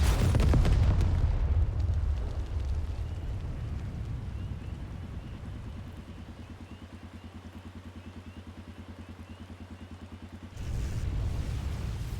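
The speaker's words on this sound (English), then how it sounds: "Explosions." Heavy explosions boom in the Final Fantasy XIV Online video game, a loud rumbling blast at the start fading into a sustained low roar with a pulsing drone, then another surge of blasts at the end.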